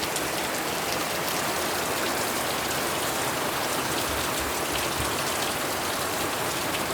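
Steady rain falls throughout, a dense, even hiss of drops on surfaces with no pauses and nothing else standing out.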